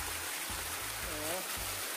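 Creek water flowing through a rocky gorge near Pentecost makes a steady, close, broadband rushing, with a few dull low thumps underneath.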